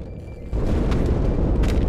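Deep explosive boom rumbles aboard a space station in Halo 2 Anniversary, a low sustained roar that swells abruptly after a quieter opening and stays loud to the end.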